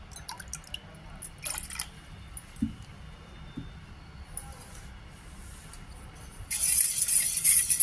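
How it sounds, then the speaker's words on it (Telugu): Water goes into two cups of curd for millet dosa batter and gets mixed. Faint, sparse drips and small clinks come first, then a louder splashing rush near the end, with no one talking. "కొద్దిగా వాటర్ పోసుకుని బాగా మిక్స్ చేసుకోవాలి"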